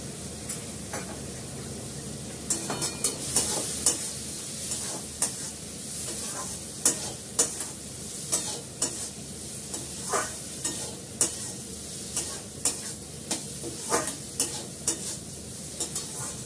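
Gobindobhog rice stir-fries with spices in a pan, a steady sizzling hiss punctuated by repeated rhythmic spatula scrapes and clicks that grow more regular toward the end.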